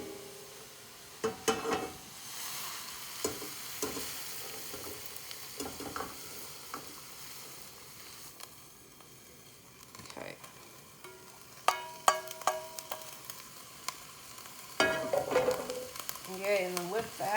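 Cooked chili meat with onions and celery is scraped and stirred as it goes into a pot, giving a run of scattered clinks, scrapes and faint sizzling, close but quiet, busier toward the end.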